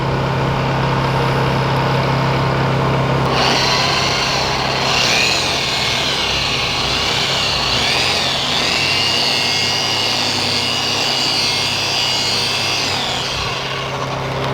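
A Rupes dual-action polisher with a wool pad hums steadily on car paint, starting low and then rising into a louder whirring buzz that holds for about ten seconds before easing off, close up with no talking.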